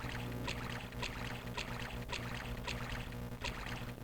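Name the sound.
character in water in The Elder Scrolls: Arena video game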